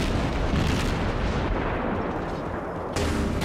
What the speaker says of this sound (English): that battleship is shooting HE for some reason